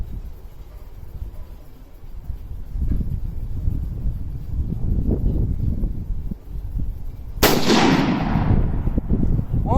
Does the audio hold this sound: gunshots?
yes